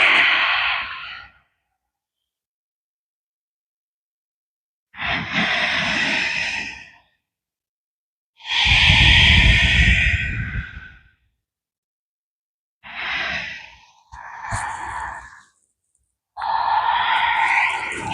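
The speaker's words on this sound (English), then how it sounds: "Inhale. And exhale." Slow, deep yoga breaths during a standing practice, each long inhale and exhale a separate breathy swell, five or six of them spread across a quiet room, with no talking over them.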